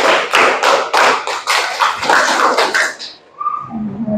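Classroom group clapping together in an ice-breaking clap game, about ten sharp synchronized claps in a steady rhythm, loud and near, ending with a brief quieter pause.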